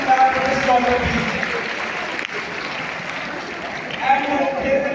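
Sustained audience applause fills a large auditorium at a school prize ceremony in Lahore, honouring a young student prize winner; the dense clapping swells again near the end, with a voice faintly audible beneath it.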